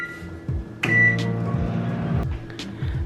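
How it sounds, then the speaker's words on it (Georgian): Microwave oven heating milk with crumbled Oreo cookies for about 15 seconds: a steady low hum with clicks and a short beep near the start, running alone without talk. "შევდგათ მიკროტალღოვანში"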